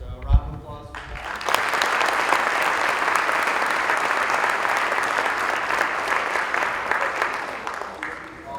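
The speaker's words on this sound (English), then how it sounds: "So round of applause for that" A crowd at a youth all-star game breaks into loud, sustained applause for the top players after a brief spoken moment, the clapping steady and dense for roughly seven seconds before easing slightly.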